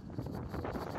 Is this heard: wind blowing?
yes